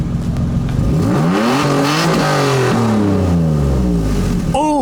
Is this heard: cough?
no